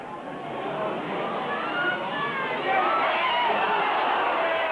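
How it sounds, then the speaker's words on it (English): A sizeable football crowd urging Darlington on in the closing minutes, a broad chattering roar that swells slightly louder partway through, heard at a distance. "a sizeable crowd again urging Darlington on in these last couple of minutes"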